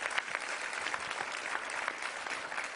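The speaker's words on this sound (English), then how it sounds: "Let's give her a round of applause as well." A press-conference audience applauds the HUD regional director, a fairly faint but steady patter of many hands clapping over a few seconds, heard from some distance in a room.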